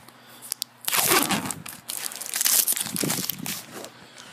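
A Jack Link's Matador Original beef jerky package is torn open, with loud close crinkling and rustling of the plastic bag in bursts over a few seconds, no talking.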